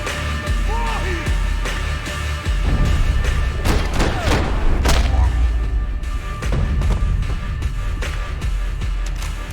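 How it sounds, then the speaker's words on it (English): Grenade blasts and gunfire in the 2012 PC shooter Max Payne 3 at an airport, with heavy booming thuds and crashes layered over a dense, continuous action soundscape of loud game effects. "Grenades."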